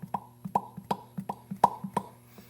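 A faulty Williams Bally System 11 pinball sound board that fails to boot pulses instead of chiming, giving soft, regular plopping thumps about three per second, quiet and alone.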